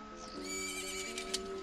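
A horse in Zelda: Ocarina of Time gives a single clear, close whinny, a short rising-and-falling neigh standing alone with no talk.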